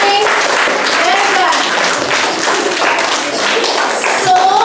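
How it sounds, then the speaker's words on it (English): Children clapping together in a school classroom for a health lesson, a steady burst of rapid, close applause lasting several seconds, with voices calling out over it. "So let's clap for all of us."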